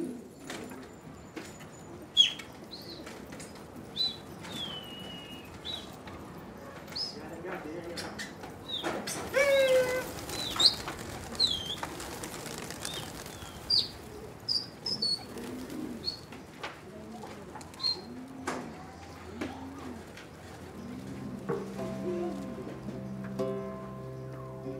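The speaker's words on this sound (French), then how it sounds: "Le pigeon tourne toujours en cercle" Pigeons coo at intervals around a house in Zaatari, joined by scattered chirps and wing flutters, while someone speaks over much of it and faint background noise persists.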